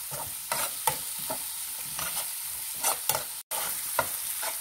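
Tomato yogurt chutney ingredients frying lightly in a pan, a continuous soft sizzle broken by repeated scraping strokes of a stirring spoon, close and moderately loud with no talk.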